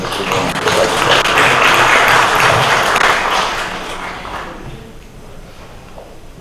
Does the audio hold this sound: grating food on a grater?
no